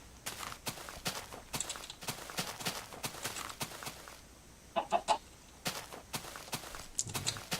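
Minecraft chicken clucking in short bursts among a steady run of footstep-like thuds, moderately close and clear, with no talking over it.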